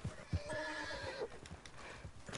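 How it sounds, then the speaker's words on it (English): A horse in the video game Red Dead Online clip-clops with a few sharp hoof strikes, then gives a loud whinnying neigh, close and clear with no speech. "My horse is still good."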